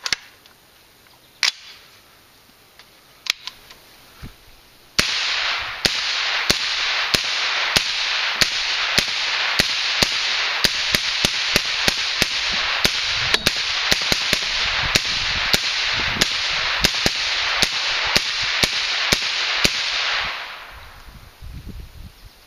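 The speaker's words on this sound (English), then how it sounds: "Let's fire a 30-round magazine in semi-auto in rapid session" Rapid semi-automatic fire from a suppressed rifle emptying a 30-round magazine: a dense, steady train of sharp, loud, closely spaced shots running about fifteen seconds after a few isolated earlier clicks, ending abruptly.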